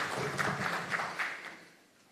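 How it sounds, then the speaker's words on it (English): An audience claps after a talk at a reef resilience symposium. The applause is brief, moderately loud and fades out within about two seconds, with no voices. "Round of applause,"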